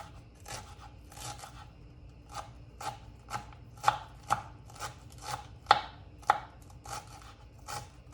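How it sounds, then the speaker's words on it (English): A knife chops fresh cilantro on a cutting board in a kitchen, making a close series of crisp, irregular cuts with some scraping between strokes and no talk. "I'm just going to chop up some cilantro"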